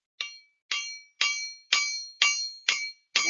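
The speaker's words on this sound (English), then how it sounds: "how I hammer a wire" Copper wire being hammered flat for a handmade ring, metal on metal: seven sharp ringing clangs at a steady, roughly half-second rhythm, close and loud, each one ringing briefly, with no voices.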